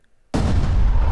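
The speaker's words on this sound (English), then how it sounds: "The mortar's going to take a shot." A mortar fires a shot during a tabletop wargame, heard as a single sudden, loud boom after a brief silence that then rumbles on heavily.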